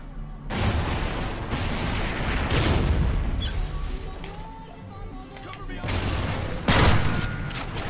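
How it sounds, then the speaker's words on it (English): Gunfire and explosions from the shooter video game Call of Duty: Ghosts, played on the Departed map with an L115 sniper rifle: dense, continuous game battle noise with sharp loud bursts, under talk. "And then I shoot him in the foot,"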